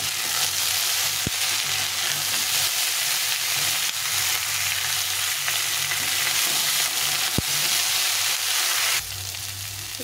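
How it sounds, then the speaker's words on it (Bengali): Bitter gourd strips, potato and onion fry together in a pan with a steady, close sizzle, broken by a couple of sharp clicks as the mix is stirred, all with no talking. "করলা আলু আর পেঁয়াজটা একসঙ্গে একটু ভেজে নিয়েছি"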